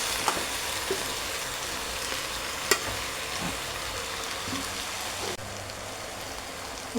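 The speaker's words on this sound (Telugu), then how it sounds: "టమాటాలు కూడా కొంచెం వేగాలన్నమాట" Tomatoes fry in a pan for a mixed chikkudikaya curry, giving a steady, even crackling sizzle with a few sharp ticks and light stirring scrapes, close and alone with no talk.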